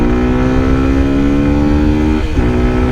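A Daytona Dymoto 125 motorcycle engine revs hard at full throttle, a loud, close, steady growl that dips briefly as it shifts near the end of the three seconds.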